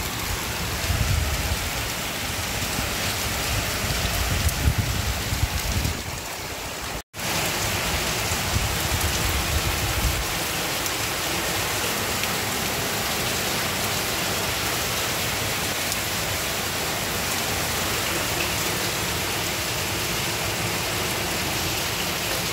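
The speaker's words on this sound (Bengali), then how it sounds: "বাইরে প্রচুর বৃষ্টি হচ্ছে।" Heavy rain pouring outside windows and a balcony door left wide open: a dense, even hiss of downpour fills the room throughout, with a brief dropout partway through.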